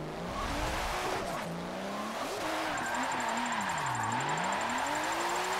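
A car drifts on sport tires in Forza Motorsport 7, its tires squealing in long, wavering sweeps over a steady engine drone. The squeal rises and falls with the slide and stays loud and continuous throughout.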